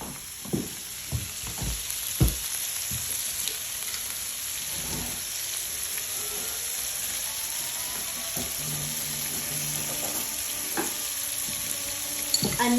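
Celery and other vegetables sauté in olive oil seasoned with Sicilian sea salt and black pepper, a steady close sizzle with occasional stirring scrapes and soft knocks, with no talk over it.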